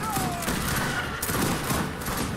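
Rifle grenadiers open fire in the strategy game Age of Empires III (Wars of Liberty mod), a dense, continuous volley of overlapping gunshots and small explosions filling the battle soundscape with no talk.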